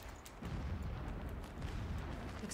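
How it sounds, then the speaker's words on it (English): Distant explosions rumble in the Horizon Zero Dawn video game, a continuous low booming roar that swells after a brief quieter start and holds steady, with no voices. "Explosions in the distance."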